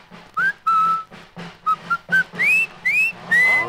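A person whistles a string of short, clear notes, some steady and some sliding upward, with brief pauses between them.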